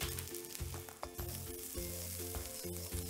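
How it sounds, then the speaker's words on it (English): Finely chopped capsicum fries on high flame in a pan for crispy corn chilly, making a continuous bright sizzle with occasional stirring beneath background music. "Capsicum goes in next. This is 1 medium sized capsicum which I have chopped fine. We will add it in and fry really well."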